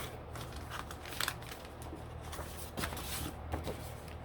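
Scissors cutting through folded journal paper signatures, a series of quiet, crisp snips and rustles spread over a few seconds against faint room noise.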